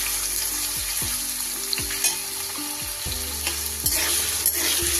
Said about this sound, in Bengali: আলুগুলোকে একটু ভালো করে আমি ভেজে নেব।